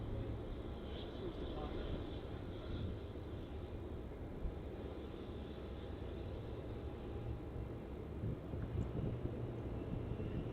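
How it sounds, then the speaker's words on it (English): A Thai Airways Airbus A350 taxis toward the runway at Melbourne Airport, heard as a distant, steady jet-engine drone under faint wind, with a voice talking over it throughout. "we have the Thai A350, which is making its way out from Terminal 2 and heading towards the runway for its departure off to Bangkok"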